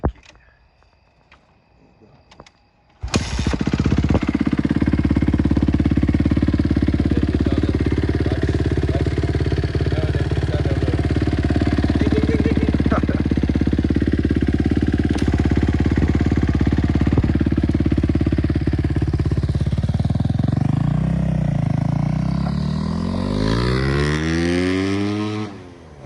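A dirt bike engine catches after a kick start and runs loud and close with a steady droning idle, then revs and blips near the end, after a few quiet seconds of handling noise.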